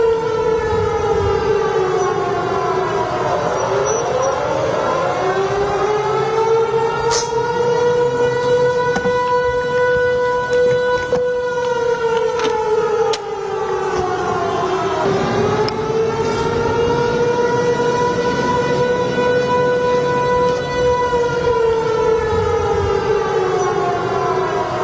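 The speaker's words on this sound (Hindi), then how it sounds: "जम्मू में इस वक्त चारों तरफ अंधेरा कर दिया गया है, ब्लैकआउट हो गया है, सायरन बज रहे हैं।" Civil defense sirens wailing during a blackout in Jammu, loud and continuous, the pitch rising and falling in long sweeps as several sirens overlap across the whole stretch.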